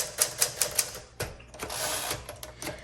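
Quick clacking keystrokes on a 1962 Smith Corona Sterling manual typewriter, a rapid run of crisp strikes followed by a few heavier, slower key hits, close and alone.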